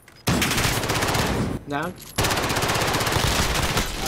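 Sustained automatic gunfire from an online Call of Duty: Modern Warfare Warzone match, loud and close in rapid bursts, cut by a brief pause where a short shouted word breaks in before the firing resumes.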